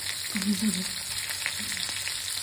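Oil sizzles steadily in a pan frying fish and eggplant, a soft crackling hiss with a few brief low clanks or murmurs.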